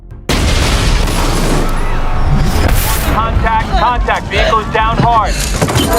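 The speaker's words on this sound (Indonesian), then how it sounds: "dan saat akan memberitahu Silva, tiba-tiba mobil itu langsung meledak." A car suddenly explodes with a heavy boom and roar, followed by a second blast and then frantic, high-pitched voices crying out.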